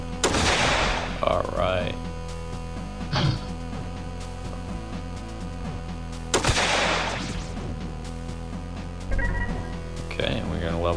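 Rifle fire in the video game MazeQuest 3 arrives as several loud, spaced shots with long reverberant tails, mixed over steady game music while someone talks.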